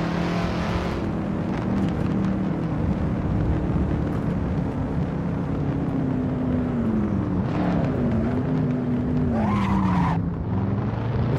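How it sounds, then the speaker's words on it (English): Simulated car drifting around a track in Assetto Corsa, a steady loud engine drone with rising and falling pitch under continuous tire squeal and skidding, no talk. "I'm gonna drift all the way around there"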